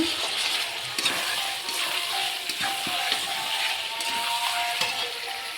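Chicken pieces and potatoes sautéing in a pan for a country-chicken curry, giving a steady, close sizzle and frying crackle that holds throughout with a few faint scrapes of stirring.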